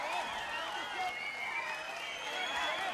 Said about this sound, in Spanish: Un aplauso para ellos con Estar Contigo.